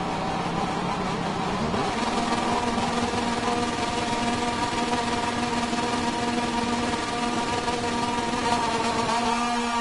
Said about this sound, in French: Après l'extinction des feux, les pilotes Moto 2 vont s'élancer pour cette course.